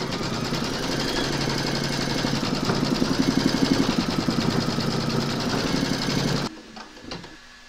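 An embroidery machine stitches a placement outline on a gnome quilt block with a steady, close mechanical hum and rapid needle pulsing. It cuts off abruptly near the end, leaving a quiet room.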